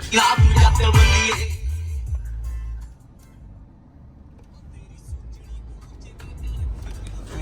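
A Toyota Fortuner pulls away under hard acceleration, the loud engine roar dropping off after a couple of seconds into a quieter running hum, with voices nearby.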